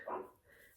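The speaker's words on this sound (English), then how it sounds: "Please excuse the dogs, they're playing out in the garden because it's a beautiful sunny day" A dog gives a single short bark or yip, faint and somewhat distant, while dogs play outside in a garden.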